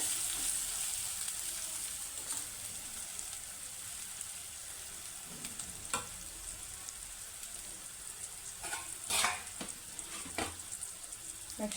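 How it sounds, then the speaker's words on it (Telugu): Ginger garlic paste frying in hot oil for an eggplant tomato curry makes a steady, soft sizzle and crackle, with a few sharper pops and stirring scrapes near the end. "కొంచెం అల్లం వెల్లుల్లి పేస్ట్ పచ్చివాసన పోయే వరకు కొద్దిసేపు వేయించుకుందామండి ఆయిల్లో."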